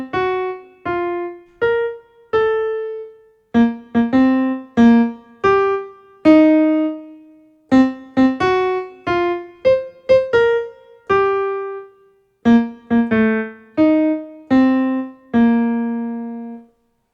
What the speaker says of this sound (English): Did you guess it was actually Happy Birthday?